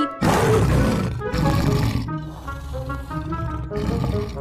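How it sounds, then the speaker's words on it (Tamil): A tiger from a children's bedtime story roars loudly and continuously, a deep rumbling growl that swells and falls over several seconds, set among layered musical tones. "புலி"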